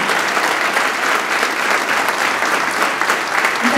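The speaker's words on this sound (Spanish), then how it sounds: "Un gran aplauso para ellos," Big, steady applause from an audience for the Banda Sinfónica Municipal de Córdoba and its director after a concert in Río Primero, loud and continuous with no breaks.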